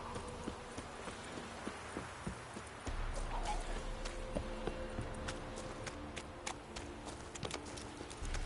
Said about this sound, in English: time to water the horses